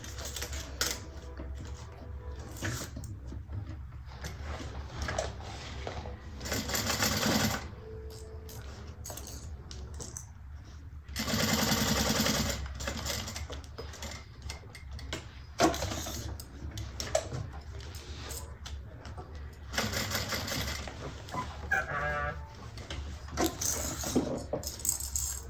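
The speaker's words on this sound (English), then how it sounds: "we'll give it a good top stitch" A domestic sewing machine runs top stitching along a fabric bag, giving a steady mechanical rattle that hums on for long stretches with a few louder surges and short stops.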